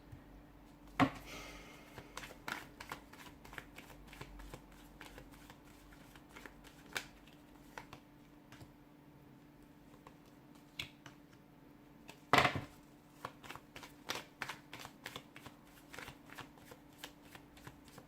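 Tarot cards being shuffled by hand, a long run of quick papery riffles and flicks with a few sharper slaps, close up and steady for most of the time, no talking.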